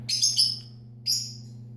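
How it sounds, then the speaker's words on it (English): Pet birds kept indoors give two close bursts of high, shrill chirping, the first longer and the second brief, over a low steady electrical hum. "This is my sister's birds."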